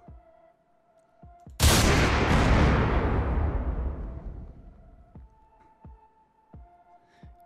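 Explosive charge detonating in Unturned: a single loud, close blast with a long rumbling decay, followed by a faint mechanical hum and scattered ticks.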